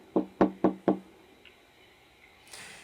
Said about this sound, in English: he's been knocking